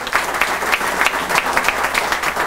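Sustained applause from a standing audience at a community gathering, with dense, even clapping that stays steady for the whole stretch and a murmur of the crowd beneath it.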